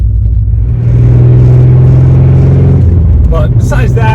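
A bagged Corvette on air ride cruises down a road, a loud, deep engine rumble holding steady close by, with a voice briefly heard near the end.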